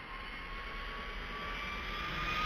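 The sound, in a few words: jet aircraft engine starting up on runway in a video game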